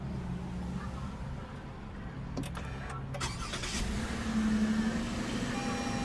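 A 3.5 liter V6 car engine starts by push button and settles into a low, steady idle at an auto show, with some clicks and rustling nearby and a faint rising hum toward the end.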